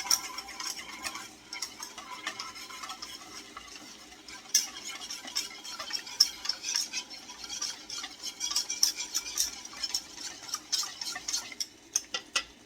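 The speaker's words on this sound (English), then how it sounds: "I'm just gonna go ahead and whisk this out." Cornmeal and water whisked in a bowl, a steady, quiet run of rapid clicking and scraping strokes that goes on without any talk.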